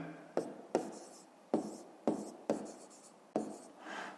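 A pen writes out the answer to a fifth-grade maths exercise on paper, with a series of short scratchy strokes, each starting with a sharp tap and fading. It sounds close and quiet, with no talk.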